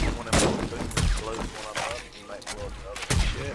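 Rapid magnum gunshots crack out in a 7 Days To Die firefight, several sharp loud bursts in close succession, with players talking over them.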